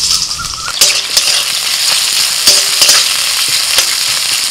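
Chopped onion fries in mustard oil in a wok, a loud continuous sizzle close by, broken by several clinks and scrapes of a spatula against the pan, with no talking.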